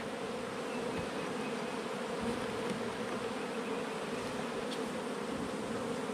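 Honeybees drone in a thinly populated hive holding mostly drone brood, a steady close-up buzz that holds level and unbroken throughout with no voices.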